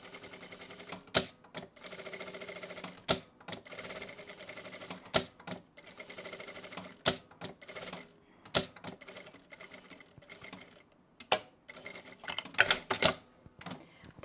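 A sewing machine stitches around a fabric circle for a themed placemat, running in short close bursts of rapid mechanical chatter separated by brief pauses and sharp clicks.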